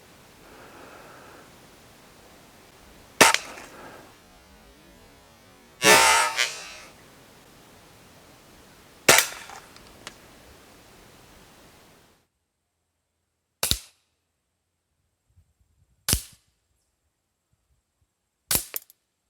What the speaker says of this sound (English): it has been a very, very long time since I have fired this rifle, so it might blow some cobwebs out of it when it finally goes bang here